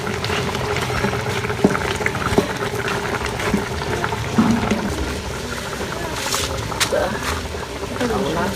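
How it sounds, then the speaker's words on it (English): Water boiling in a covered cooking pot during native meal preparation, a steady bubbling seethe with people talking over it. "It's still boiling."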